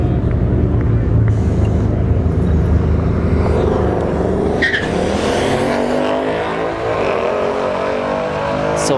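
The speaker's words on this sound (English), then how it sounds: "we have two S550 Mustangs" Two Ford S550 Mustangs, an EcoBoost and a 5.0, launch down a drag strip with loud roaring engines, tire squeal and a rising pass fading away, with voices and crowd noise underneath.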